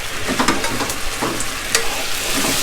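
Marinated pork sizzling and crackling in a hot wok while being stirred for Hong Kong-style rad na, with scraping and clanks of a utensil over steady frying hiss.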